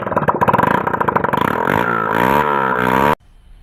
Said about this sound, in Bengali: তো বাইকের আওয়াজ শোনো